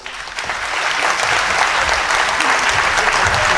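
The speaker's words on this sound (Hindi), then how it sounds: "एक बार आप जोरदार तालियां बजा दीजिए" Loud, close audience applause at a Hindi comedy poetry gathering (hasya kavi sammelan), building quickly into dense sustained clapping.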